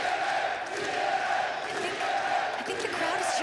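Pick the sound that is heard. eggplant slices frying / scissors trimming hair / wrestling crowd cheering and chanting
wrestling crowd cheering and chanting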